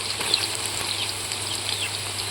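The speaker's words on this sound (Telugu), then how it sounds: "కట్ చేసుకున్న కాకరకాయ ముక్కలను మంచి కలర్ వచ్చేదాకనైతే ఫ్రై చేసుకోవాలి" Bitter gourd pieces deep frying in hot oil, a steady close hiss and crackle of bubbling oil that holds evenly without pauses.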